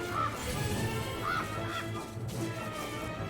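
Chickens squawk and honk in a few short, sharp bursts in MediEvil, fairly close over a low game rumble.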